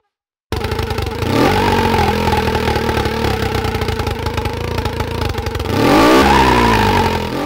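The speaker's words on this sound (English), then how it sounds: "Varying the base amount the throttle is open changes the engine's idle RPM." A simulated car engine in real-time engine simulator software idles with a steady pulsing drone, then briefly revs higher near the end before settling back down.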